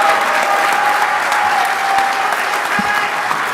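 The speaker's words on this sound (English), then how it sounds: "huge round of applause for Tater, a.k.a. Michael Sontag, your 2023 two-wheel drive world champ" Dense, sustained applause from a banquet crowd honoring the 2023 two-wheel drive RC racing world champion, steady and fairly loud throughout with no speech.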